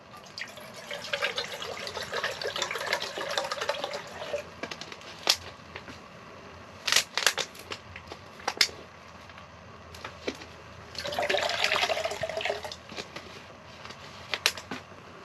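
Water pours and trickles into a container at an ice camping site, in two main splashing stretches separated by quiet, with sharp clicks and knocks scattered between them, all fairly faint.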